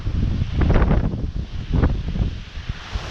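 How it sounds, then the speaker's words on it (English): Strong gusts of storm wind roar and buffet the microphone in surging waves, rising and falling loudly over a few seconds with rustling debris and no talk. "It's definitely a strong wind gust."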